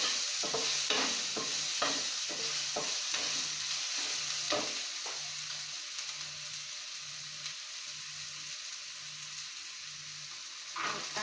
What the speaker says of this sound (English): Now saute it nicely.